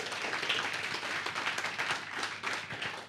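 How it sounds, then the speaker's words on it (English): Applause from an audience at a commemoration of the 60th anniversary of the Rivonia Trial, steady clapping for about three seconds, moderately distant and soft. "Let's give Ntate Sexwale a big round of applause as he's coming to the podium."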